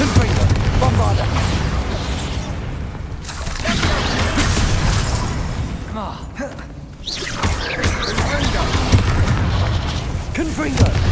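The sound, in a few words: Confringo spell explosions in the video game Hogwarts Legacy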